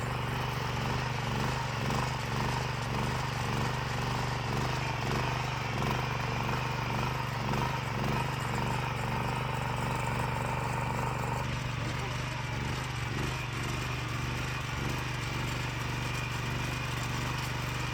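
A 13-horsepower walk-behind tractor runs in third gear while hilling potato rows, its engine a steady, even drone under light load, with someone talking over it.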